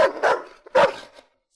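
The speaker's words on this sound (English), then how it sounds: "is this dog barking at you?" A dog barking in a story-mode video game, three sharp close barks with a short yip between them, loud and alone, ending in silence.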